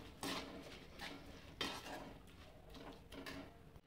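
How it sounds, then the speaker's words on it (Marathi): Rice with vegetables in oil is stirred in a pot while making masala khichdi, with quiet scraping strokes and a few utensil clinks against the metal at an uneven rhythm. "तांदूळ टाकून हलवून घेते।"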